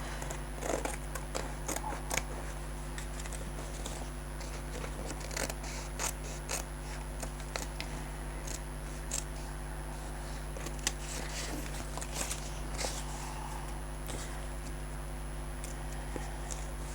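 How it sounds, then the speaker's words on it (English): Scissors roughly cutting a piece of fabric scrap for a junk journal tag, a series of quiet, close, crisp snips at an irregular pace over a low steady hum. "I'm just going to roughly cut a roof out of that."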